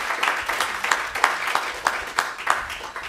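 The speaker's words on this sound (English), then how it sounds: "Give yourselves a round of applause for that." An audience at a live-streamed Granada Hills service applauds in a brief burst of steady, rhythmic clapping, fairly close and moderately loud, with no talking over it.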